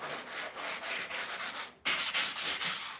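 Painted furniture, a dresser, is hand-sanded with 220 grit sandpaper in quick repeated back-and-forth strokes, close and fairly quiet, with a short pause midway and no talk.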